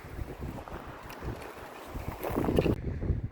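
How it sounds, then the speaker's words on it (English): Strong wind buffets the microphone on a hiking trail at North Peak, Red Rock Canyon near Las Vegas, a continuous roaring gusty rush that swells louder toward the end before cutting off. "I just wish it wasn't so windy"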